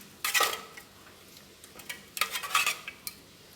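Hand-stirred homemade hand wash mixture clinks and scrapes in a container, two short bursts of clattering agitation separated by a quieter pause, close and alone without talk.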